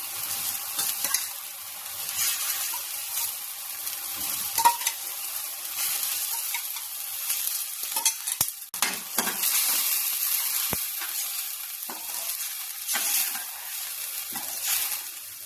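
A mint and curd mixture sizzles in a pan for pudina rice while a spoon stirs it, with steady frying hiss under repeated scraping strokes and sharp knocks against the pan, close by with no talking.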